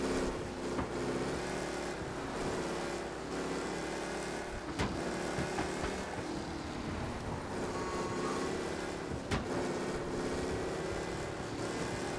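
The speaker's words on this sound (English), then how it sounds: "Be alert for a race car out on the roads tonight." A race car engine in the video game Mafia, a steady loud drone of motor noise with rising and falling revs and faint passing rushes, continuous throughout and without talk.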